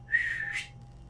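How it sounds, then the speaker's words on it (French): A single clear human whistle, a sustained tone that slides briefly upward before fading, heard alone over faint low background hum. "Et au bout d'un moment, vous entendez un sifflement."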